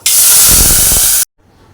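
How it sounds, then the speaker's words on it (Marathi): A loud, sharp sizzling hiss as water is poured into a hot pot of whole spices and bay leaves for biryani, lasting about a second before cutting off to near silence. "पाणी ओतूया"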